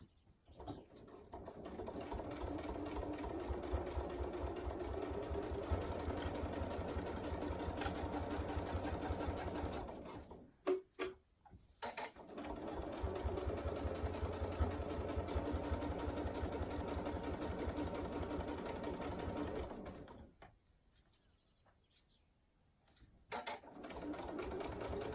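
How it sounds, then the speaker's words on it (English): A sewing machine top stitches a fabric tool wrap in long steady runs of fast, close, rhythmic whirring, broken by two brief stops, with no talk. "And top stitch."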